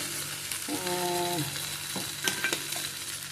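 Egg bhurji masala frying in a pan, a steady close sizzle with a few stirring scrapes and clinks of a spoon, no voices.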